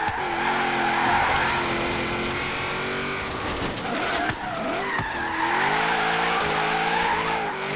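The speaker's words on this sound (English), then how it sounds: "trying to do some drifts in here" A 2004 Mitsubishi Lancer Evo drifting, its engine droning loud and steady with rising and falling revs while tires skid and scrub continuously, close up and with no talking.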